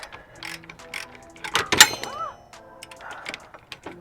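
A ratcheting wrench works loose a 21 mm nut on the rear control arm of a BMW E93 M3, with quick clicking pawl bursts, metallic clinks and a few thunks, close and fairly quiet.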